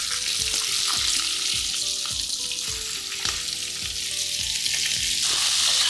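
Sliced onions fry hard in hot oil with peppercorns, fennel and cumin seeds, a steady loud sizzle broken by repeated spoon scrapes against the pan, close and with no voices.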